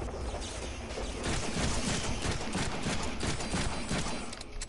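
Rapid gunfire in the Deadpool video game, a dense fusillade of sharp shots rattling continuously at moderate loudness, with no voices.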